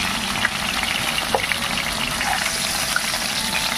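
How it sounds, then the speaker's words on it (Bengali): Fish heads fry in oil for moong dal, a dense, even crackling sizzle with small spatters and occasional stirring knocks. The sound is close and steady, with no talking. "মাছের মাথা দিয়ে ডালের রেসিপিটিতে মাথাটা কিন্তু ভালো করে একটু ভাজতে হয়"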